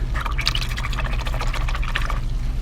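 A paintbrush rinsed in a small water container, with close, continuous liquid sloshing and light splashing over a low steady hum.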